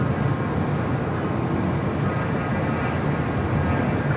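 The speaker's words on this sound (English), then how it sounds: "Next departure on the south side, United Airlines flight 1017 heading to Newark in a" A United Airlines Boeing 757-200 departs LAX for Newark, a loud, steady broadband jet roar heard from nearby throughout without change.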